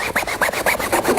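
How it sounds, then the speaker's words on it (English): Glue residue being rubbed off a Takla seat cover, a close, rhythmic scrubbing with about eight quick strokes in just over a second. "Bit of rubbing and that will come out completely, and it's come out in little balls, little balls of glue."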